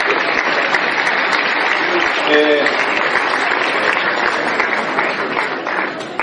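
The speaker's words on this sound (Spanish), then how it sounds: "Vamos a dar un aplauso a quienes están cediendo los puestos" Dense, steady audience applause at a financial seminar as men give up their seats, continuous and loud for several seconds before tapering slightly at the end.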